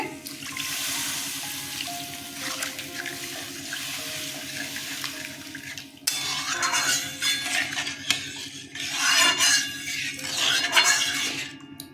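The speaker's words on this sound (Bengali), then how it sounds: "গরম হয়ে গেছে জল দিয়ে দিচ্ছি" Water poured from a vessel into a hot pan for a potato and duck egg fritter curry, a steady rushing gush that briefly breaks and resumes louder with bubbling splashes and a faint clink.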